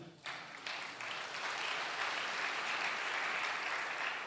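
A church congregation applauds during a sermon, with steady, dense clapping that starts abruptly after a brief pause and swells to a full, sustained ovation filling the space.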